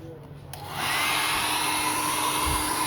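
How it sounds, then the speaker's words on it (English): A hair dryer or heat gun starts up and blows a loud, steady rushing hiss while warming the cracked glass panel of an iPad Mini, holding constant after a brief quieter start, with no voices. "You can use anything like heat gun, hair dryer or whatever which can produce heat to heat it up"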